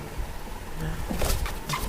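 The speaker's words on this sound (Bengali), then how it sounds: "এই কবুতর এক জোড়া হেলদি আছে, ভালোই স্বাস্থ্যবান।" A pair of pigeons kept in a home loft give a few low, soft coos close by over a noisy background, with some rustling and movement but no talk.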